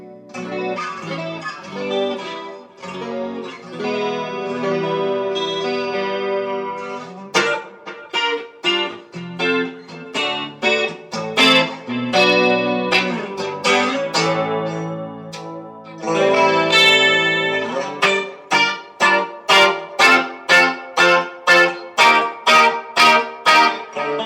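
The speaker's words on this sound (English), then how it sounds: "And I've got my reverb and echo going along with that." Electric guitar, a Les Paul with split pickups, playing chords and then rhythmic strums through a Rowin chorus pedal, with a shimmering chorus effect, reverb and echo trailing each note, loud and alone.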